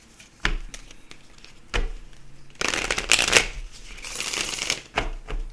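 Deck of oracle cards being shuffled by hand up close: a few sharp taps and clacks, then a long riffling flutter of cards in the middle, followed by another brisk shuffle and knocks.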